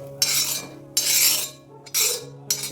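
A metal spoon scrapes fried onion out of a pan onto a plate, giving three or four rasping strokes close by, with short gaps of quiet between them.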